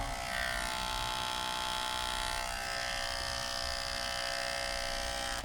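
Andis cordless hair clippers hum steadily at full power throughout, a faint, even electric buzz with a slight change in pitch partway through; no voices.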